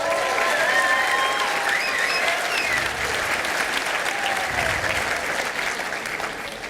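Sustained audience applause at a high school graduation ceremony, a dense wash of many hands clapping that holds steady and then slowly fades toward the end, with faint crowd murmur.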